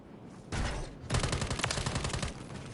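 Rapid automatic gunfire in Modern Warfare 3 during a hardpoint match, with one short burst followed by a longer sustained stream of close, loud shots.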